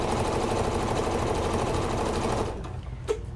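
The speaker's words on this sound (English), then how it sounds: "you're just going to start sewing all of the strips" A sewing machine stitches quilt fabric strips together in a continuous close, buzzing run that stops near the end, followed by a faint short knock.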